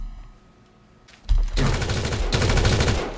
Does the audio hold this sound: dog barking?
no